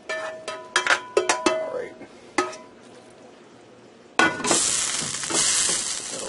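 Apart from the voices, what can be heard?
hamburger mixture dumped into hot pan, sizzling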